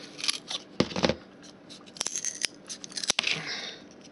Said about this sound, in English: So we're going to snip that off